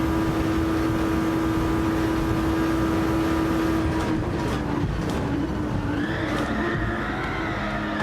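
A race car in Gran Turismo 7 runs with a loud, steady engine drone, then brakes hard and understeers, its tires scrubbing and its tone shifting in the second half, with no talking.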